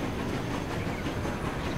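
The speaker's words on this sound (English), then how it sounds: "Out of the way, there's a train in the way." A train passes in the Transport Fever video game, a steady broadband rumble of rolling wagons with faint clickety-clack, holding at an even level for the whole short stretch with no voices.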